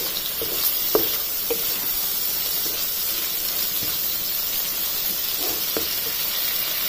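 Puti fish tossed into cooked-down spice paste in a hot pan, giving a steady close sizzle and hiss throughout, with a few soft stirring scrapes.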